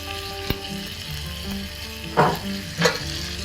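Chicken pieces fry with masala in a pan for Palakkad chicken varuval, a steady close sizzle with a sharp utensil knock and two short bursts of scraping as the mix is stirred.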